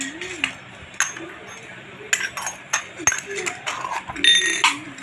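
Small tumblers, bowls and other kitchen utensils clink and tap against each other in sharp, scattered hits. A person talks over the clinks throughout.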